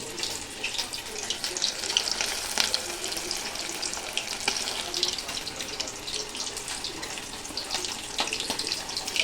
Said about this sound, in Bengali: এখন আমি মাছটায় ব্যাটারে ডুবিয়ে কড়াইতে দিয়ে দেব।